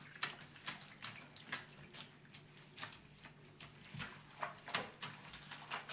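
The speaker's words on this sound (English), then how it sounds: "I'm going to bring in the towel now. This is just a kitchen towel. Get that saturated here." A kitchen towel is soaked and worked in water during hand washing, giving a rapid series of wet splashes and sloshes in uneven rhythm, close and fairly quiet.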